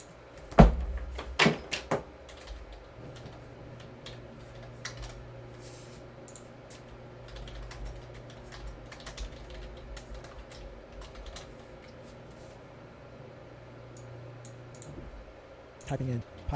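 Typing on a computer keyboard while entering a python command, heard as scattered light clicks and a few louder key taps near the start and end over a low steady room hum.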